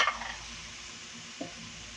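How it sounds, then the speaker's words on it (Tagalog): Shrimp slowly stirred as they cook in a pan, giving a soft, steady sizzle with a brief scrape of the utensil at the start and a small clink partway through, close and without talk. "Hahaluin na natin yung dahan-dahan ang hipon."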